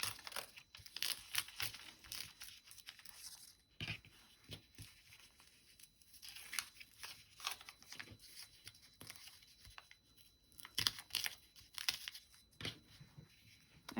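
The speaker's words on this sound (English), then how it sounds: "So remove the papers from this one too." Foundation paper being torn and pulled off a sewn quilt block: soft, close crinkling and ripping bursts in irregular spurts, faint and quiet, with no talking.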